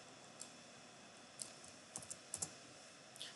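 Sparse keystrokes on a computer keyboard while entering formulas into a spreadsheet, a handful of faint isolated clicks and short bursts against a quiet room background, with no talking.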